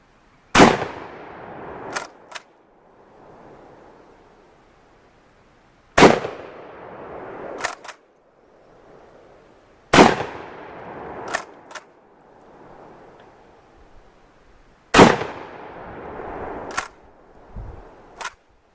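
A UTAS UTS-15 shotgun fires four loud, booming blasts spaced about four to five seconds apart. Each blast has a ringing tail and is followed by sharp mechanical clicks. No one speaks.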